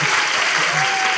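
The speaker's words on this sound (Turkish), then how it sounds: "Oğlum çok erken alkışladınız ya" Theatre audience bursting into applause, a dense, loud and steady wash of many hands clapping that fills the whole moment without a break.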